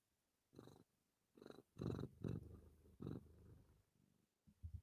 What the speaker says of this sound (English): You hear how my cat is wheezing?